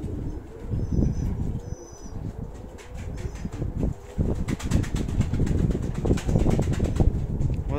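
Armenian pigeons of mixed breeds coo in low, throaty bursts at close range, with fluttering wing flaps and a few thin chirps mixed in at a steady, busy level.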